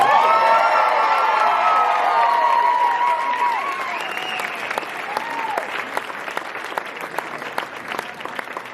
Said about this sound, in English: I hope you'll join me in giving her a round of applause.